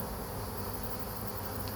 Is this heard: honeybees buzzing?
yes